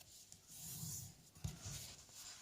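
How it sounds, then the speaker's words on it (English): A bone folder burnishing score lines on folded paper while making a ribbon storage box, a very faint, close rubbing and scraping with brief strokes and no talking. "now we're going to fold and burnish on our score lines"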